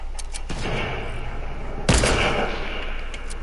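A shooter video game battle with gunfire cracking at a distance, including a sharp, loud sniper-style shot near the middle standing out above a rumbling background of other shots.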